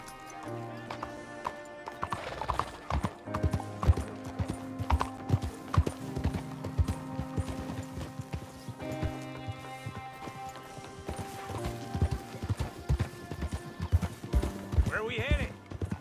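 Horse hooves clip-clop at a brisk, steady rhythm under music in the video game Red Dead Redemption 2, with a horse neighing and voices speaking at times.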